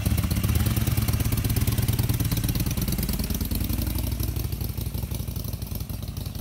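A motorcycle engine idles steadily nearby, a continuous low rumbling throb with light mechanical clatter, loud and alone with no talk over it.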